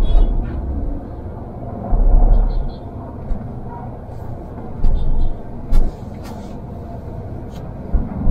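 A large vehicle passes close by a Mahindra Thar on a narrow road, a low engine rumble with a few brief louder swells over steady road noise, and voices murmur faintly underneath.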